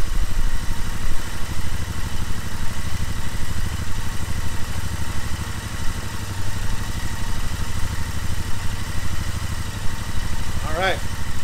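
A cold Royal Enfield Interceptor 650 fitted with slash-cut exhaust pipes idles at about 1,200 to 1,400 RPM, a steady, even, close-up engine thrum with no revving, and a short voice at the very end.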